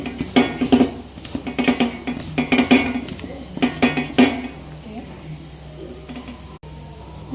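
Salt, turmeric and chilli powder being stirred into mango pickle, with a spoon scraping and clinking against the container in a run of quick repeated strokes that taper off into quieter, sparser movements.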